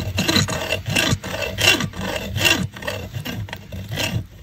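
A saw cuts through a 7.62x53 phosphorus bullet with a rhythmic, close rasping scrape, about five or six back-and-forth strokes rising and falling in loudness, with no talking.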